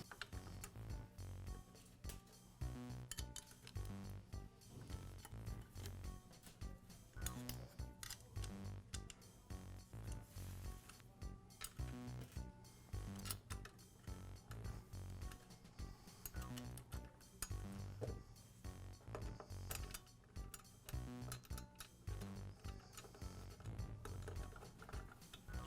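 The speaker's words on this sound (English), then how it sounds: "Next, I'll reinstall the inner blade guard." An inner blade guard being refitted on a Milwaukee metal-cutting saw, heard as a long run of close, quiet metallic clicks, ticks and light clinks from handling parts and screws.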